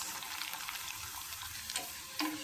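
Homemade papad (appadam) drops into hot oil and fries, giving a close, steady crackling sizzle with a couple of brief louder pops near the end.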